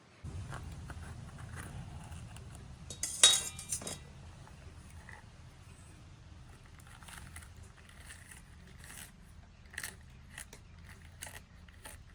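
Knife slitting a green chilli for stuffing in a home kitchen, giving faint scattered clicks and taps against a board, with one sharper clink near the start and a quiet background hum.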